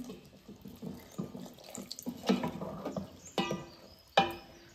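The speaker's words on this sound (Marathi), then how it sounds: "आणि थोडंसं अगदी पाणी घालून घेणार आहे मी।" Water splashes and gurgles into a pan of fish curry with salt in a few bursts, with clinks of a vessel between the pours.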